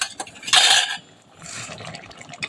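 A lid comes off a pot of cooking rajma (kidney beans) with a short, bright metallic clatter and rush, then quieter pot and stirring sounds follow nearby.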